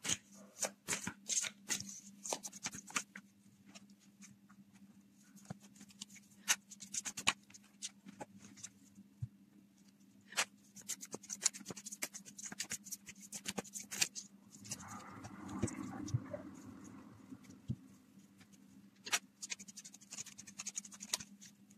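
Cards are shuffled by hand for a card draw, with soft rapid riffling and scratchy flicks close by, repeating in bursts over a low steady background hum.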